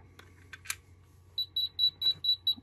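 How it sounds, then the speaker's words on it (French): An Arkeon radio fire alarm unit emits six short, evenly spaced high beeps after a few faint clicks and handling sounds. "Donc je sais pas si vous entendez les bips."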